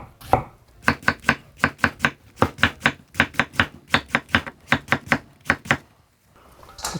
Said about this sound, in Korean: 그래서 무채는 약간 도톰하게 썰어 주세요.